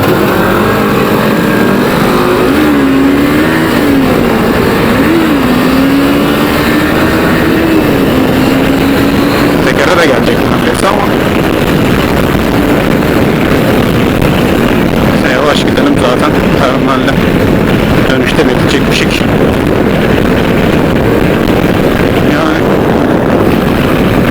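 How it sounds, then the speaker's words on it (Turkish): Loud, constant wind roar buffets the microphone on a moving Suzuki V-Strom 250 motorcycle, with the engine droning underneath. "Çok da rüzgar var."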